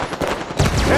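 A Halo 5: Guardians multiplayer firefight, rapid bursts of gunfire crackling close and loud, with a heavier impact hit partway through and voices briefly in the mix.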